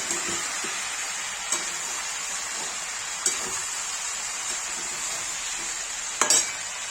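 Potato and pointed gourd fry in a pan with turmeric and red chili, a steady bright sizzle running throughout with a few soft scrapes and knocks as the mixture is stirred.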